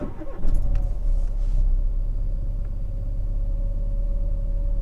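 A Renault Clio with a 1.4 K7J engine starts up with a short burst, then settles into a steady, low rumbling idle around 1200 rpm, close and alone.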